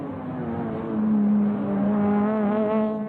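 British Touring Car Championship race cars from the 2001 season scream past at close quarters, engines revving hard with rising and falling pitch as one slides through a corner, a continuous loud roar throughout.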